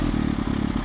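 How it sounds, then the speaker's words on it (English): A Kawasaki H2 motorcycle with an aftermarket exhaust idling at about 1100 RPM, a brief close, loud, even rumbling throb with a regular pulse. "the bike is totally calm, totally fine, idling at about 1100 RPM right now"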